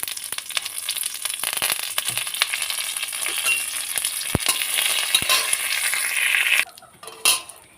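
Mustard seeds, dried red chillies and curry leaves frying in hot white oil, a dense close crackle and sputter with sharp pops throughout, cutting off near the end before a short burst of clatter.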